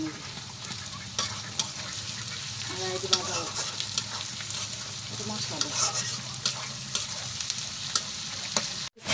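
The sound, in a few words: onion and garlic frying with spices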